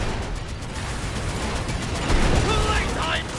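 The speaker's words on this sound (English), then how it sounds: "Use the machine gun again!" Machine gun fire rattles in a dense, continuous stream amid explosions and battle noise in the video game Sand Land, with voices mixed in.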